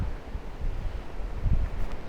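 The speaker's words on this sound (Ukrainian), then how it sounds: "Така у нас погода хмарно з проясненнями і сильний вітер." Strong wind over a vegetable garden buffets the microphone in low, rumbling gusts that rise and fall throughout, with no voices.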